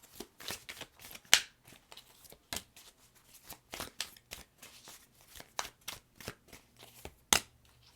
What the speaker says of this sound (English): I have been shuffling, and I purposely shuffled like in all different ways